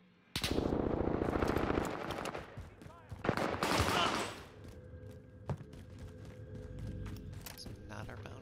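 Bursts of automatic gunfire in Call of Duty: Modern Warfare, two loud close volleys of rapid shots followed by quieter scattered fire and background game noise as people talk.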